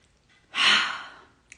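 A single deep breath drawn in slowly and steadily, close and fairly loud, swelling and then tapering over about a second in a quiet room, with no talking around it.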